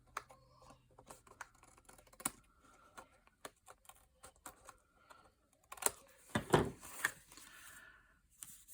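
Trimming excess paper off the edge of a handmade birthday card: a series of small sharp clicks and snips, close and quiet, ending in a louder rustling, scraping burst near the end.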